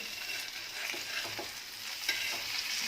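Pala fish frying in a pan, a steady, moderate sizzle with faint scrapes and one sharp tick near the end, heard close and without voices.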